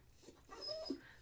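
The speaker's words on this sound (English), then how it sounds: "I don't know if you can hear this dog crying, but she's really going at it." A dog whimpering and crying indoors, faint, with a few rising, high-pitched whines and a short yelp near the end, heard alone.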